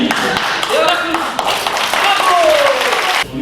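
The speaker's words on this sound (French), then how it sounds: "Et on applaudit." An audience claps steadily in a dense, loud burst of applause that holds throughout, with a voice speaking over it.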